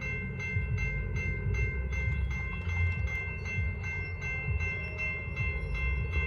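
A Norfolk Southern freight train rolls past steadily, its cars rumbling with rhythmic wheel clicks and a sustained tonal ring over the low drone, continuous and fairly close, with no talk.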